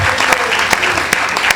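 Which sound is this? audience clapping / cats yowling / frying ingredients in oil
audience clapping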